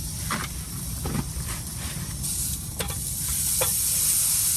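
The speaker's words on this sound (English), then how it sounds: "I'm about to brown it a little and serve it" Brown-and-serve breakfast sausage browns in a hot pan with a steady, close sizzle, joined by a few brief scrapes and stirs before the hiss grows slightly louder near the end.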